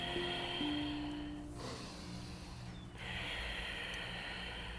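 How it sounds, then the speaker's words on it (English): Slow yoga breathing with the exhale drawn through the throat, heard as soft, close, airy hissing breaths, two gentle swells separated by a brief pause in a quiet room. "the exhale breath, is almost like a breath through your throat. So it almost sounds like the breath is contained in the throat."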